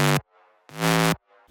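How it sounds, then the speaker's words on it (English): Square-wave bass synth in Serum pushed through heavy diode distortion and compression: two loud, gritty, buzzing sustained notes separated by a brief gap, heard alone with no voices. "Then with the distortion, it sounds like this."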